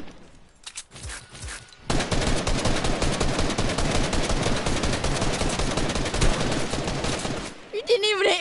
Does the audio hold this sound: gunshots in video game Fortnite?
yes